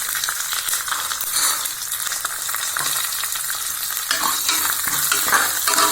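Peanuts go into a hot tempering of chana dal, chillies and curry leaves for tamarind rice, giving a steady, loud crackling sizzle with stirring scrapes throughout and no talk.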